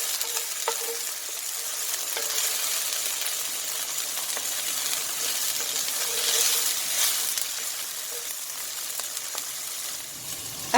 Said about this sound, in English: I don't want to burn the garlic. And give it a good fry.